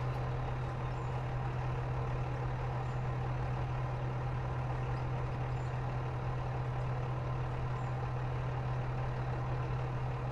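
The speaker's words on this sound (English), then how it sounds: "It's kind of weird that the engine just idles all the time, unless you're tracking." A mining vehicle's engine in the game Out of Ore idles with a steady, even low drone that never changes pitch across the whole stretch, fairly quiet and with no talking.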